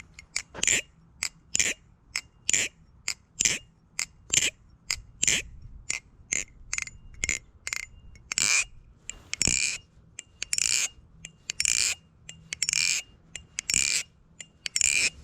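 Rapid metallic clicks and clacks from a Polaris balisong knife being flipped, arriving in quick rhythmic bursts, crisp and close, with no one talking.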